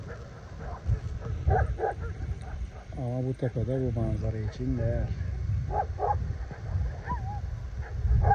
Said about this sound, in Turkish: Bak hepsi bana havlıyorlar.